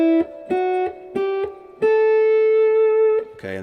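Slide guitar notes stepped up a scale on the second string, four clean sustained tones each sliding into pitch, the last held long before a brief strum at the end.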